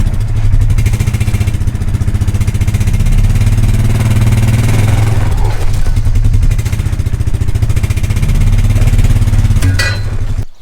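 A four-wheeler ATV engine runs loud and close, pulling on a hydraulic cylinder. It holds a steady, rough mid-pitched drone with a little clatter for about ten seconds, then cuts off abruptly.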